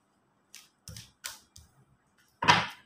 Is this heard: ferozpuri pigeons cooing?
no